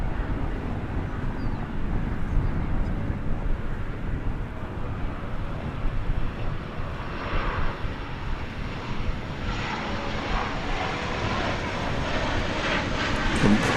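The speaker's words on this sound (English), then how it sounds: "probably hear the plane coming in" A steady, loud roar of an airliner's jet engines at DFW Airport, a continuous broadband rumble with wind buffeting the mic as the plane approaches.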